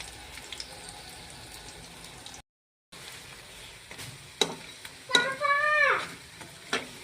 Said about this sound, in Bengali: দেখো কত সুন্দর লাল করে ভেজে নিচ্ছি আমি